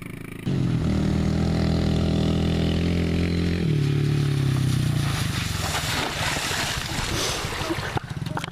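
A dirt bike engine revs loud and close, a steady droning roar that drops in pitch partway through, then gives way to rougher, broken engine noise near the end.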